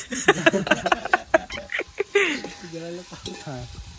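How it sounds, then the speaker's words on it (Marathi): Chopped onion sautéing and being stirred in a pan over a wood-fired stove, with scraping stir strokes and a soft sizzle, while voices and a higher-pitched vocal sound are heard over it in the second half. "तर लाल असा केशरी रंग येतोपर्यंत कांदा असं परतून घ्या"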